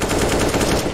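Sustained automatic gunfire in the shooter video game Unlost, loud and continuous rapid shots with no audible talking.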